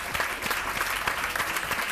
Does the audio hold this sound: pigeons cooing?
no